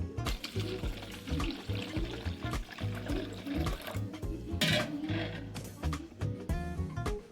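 Water splashes and pours in a steady stream into a container of soaked sago, close up, with a tonal background underneath.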